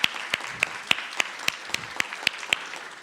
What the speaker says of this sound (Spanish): les pediría un fuerte aplauso para cada uno de ellos y de ellas.